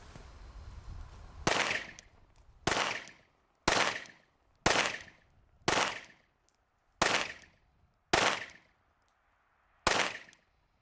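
Eight handgun shots are fired at a target during a CCW qualification, each one a sharp, loud crack with a short decaying echo, spaced roughly one to one and a half seconds apart at an even, deliberate pace.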